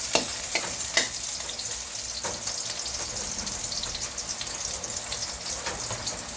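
Onion and garlic sauté together in a pan for pork menudo, with a continuous bright sizzle and a few sharp spatters near the start, no talking.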